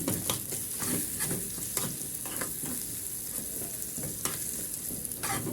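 Fava beans fry with onion in oil, a soft continuous sizzle with intermittent spoon-stirring clatters close by, moderately quiet and unaccompanied by speech.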